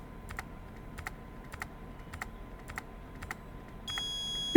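A keypad PIN being entered in a video game: a series of about ten short, evenly paced button beeps, followed at the end by a louder, sustained confirmation tone.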